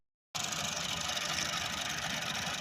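A tractor engine idles steadily, a continuous close, even rumble with a knocking pulse that starts abruptly after a brief silence and runs without talk.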